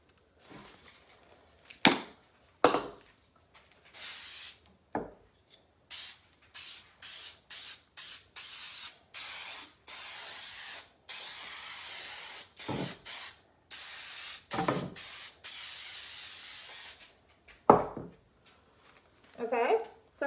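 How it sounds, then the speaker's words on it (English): Adhesive spray bursts hiss onto decoupage tissue paper for lining an old drawer, a series of short and longer sprays separated by pauses, close and clear with a few clicks and handling knocks. "how I adhere it with the spray"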